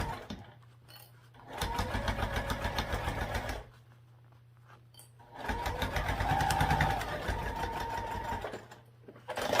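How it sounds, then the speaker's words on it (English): Close-up sewing machine stitching the sides of a bag: two sustained runs of fast, rhythmic needle clatter, separated by a quiet stretch where only the motor's low hum remains. "I'll sew both sides on first and then I'll go back and top stitch."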